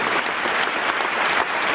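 An audience applauds loudly and steadily, a dense wash of many hands clapping at once, close and sustained without a break.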